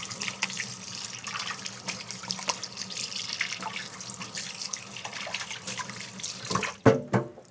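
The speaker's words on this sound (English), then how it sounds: "I'm gonna wash my hands up" Tap water runs steadily into a kitchen sink as hands are washed, a continuous splashing flow that cuts off abruptly near the end with a few drips.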